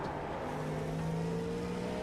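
GT3 race cars driving near a Cadillac GTP prototype at Le Mans in a racing video game, a steady engine drone with a slowly rising pitch, moderately loud and continuous, no speech.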